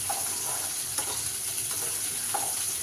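Okra being stirred as it fries in a pan for masala bhindi, giving a steady close sizzle with a few soft scrapes of the spoon, no voices.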